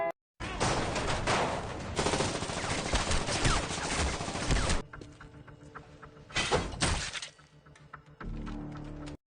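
Gunfire rings out in a Korean drama scene: a loud, rapid burst of shots lasting several seconds, followed by scattered sharp cracks and impacts.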